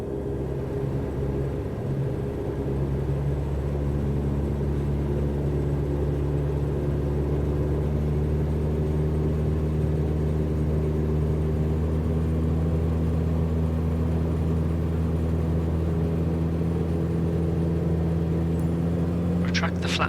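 An aircraft engine in Microsoft Flight Simulator 2020 drones steadily and loudly throughout as power is increased, a continuous layered hum with a brief faint click near the end.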